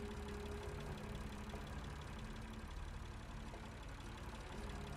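Engine noise in a radio drama, a steady low idling drone that holds constant throughout with no voices over it.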